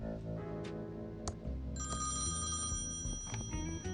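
A telephone rings in the video game Thimbleweed Park, a bright repeated ringing tone over a quiet background of game music.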